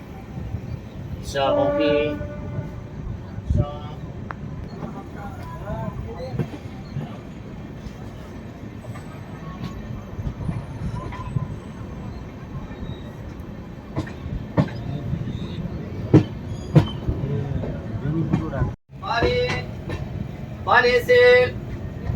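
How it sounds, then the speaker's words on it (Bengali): Sairang Express rolls over the Nasipur rail bridge on the Sealdah route into platform 5 at Azimganj Junction, a steady rumble with clacking wheels and horn-like tones, while voices talk over it. "আর আমাদের ট্রেন যাচ্ছে শিয়ালদা রুটের মুর্শিদাবাদ স্টেশন হয়ে নসিপুর রেল ব্রিজ হয়ে আজিমগঞ্জ জংশন প্রবেশ করছে 5 নম্বর প্ল্যাটফর্মে"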